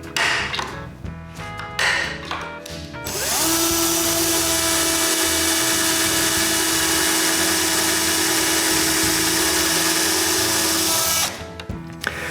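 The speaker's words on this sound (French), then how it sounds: "je peux marquer l'endroit où je veux percer des trous pilotes, puis je les perce" A power drill boring pilot holes in a walnut clock frame: a few short bursts of drilling, then one long, loud, steady high whir biting into the hardwood for about eight seconds before stopping.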